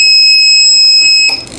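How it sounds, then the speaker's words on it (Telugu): An automatic anti-theft buzzer alarm on a parked car sounds as a loud, continuous, shrill electronic tone that holds steady, then cuts off abruptly near the end of the short clip. "ఎప్పుడైతే పార్కింగ్లో ఉన్న కార్ని ఎవరైనా దొంగలించడానికి ట్రై చేస్తే ఆటోమేటిక్గా ఈ విధంగా బజర్ అనేది మోగుతుంది"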